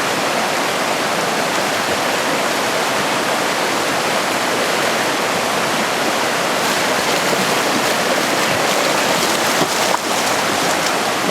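River water rushes loudly and steadily in a wilderness backcountry setting, a dense unbroken roar close by with no voices.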